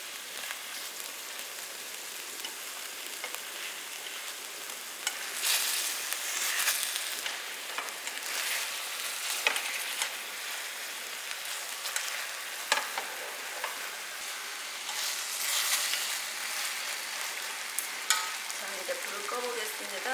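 Rolled pork simmering and reducing in a pot with syrup, a soft continuous bubbling hiss with occasional louder crackles and stirring bursts, steady throughout with no voices.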